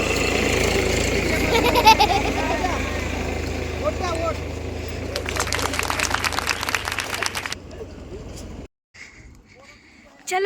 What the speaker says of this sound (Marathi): आता मशीन येत आहे तूर काढायसाठी